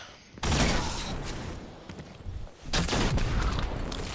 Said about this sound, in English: They did switch to a sniper! Somebody's sniping.